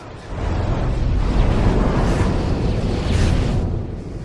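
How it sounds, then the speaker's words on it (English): A loud, rumbling airstrike bomb blast in a first-person shooter match, a broad sustained roar lasting several seconds with no speech over it. "Nighthawk, you are cleared for bomb. Affirmative HQ, bombs away."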